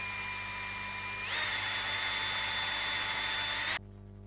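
A power drill with a 3.2 mm bit bores a hole in a Rode Videomic shotgun microphone body. It gives a steady high whine that rises in pitch partway through, then cuts off abruptly; the sound is close and has no talk over it.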